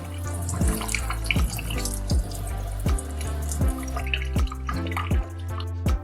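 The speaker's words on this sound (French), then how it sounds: "Ouvrez l'eau, vous avez créé un arrosoir douche fait maison." Tap water running through a homemade sprinkler built from a balloon and a holed lid fitted on the faucet, a steady close splashing stream with regular louder drips and splats.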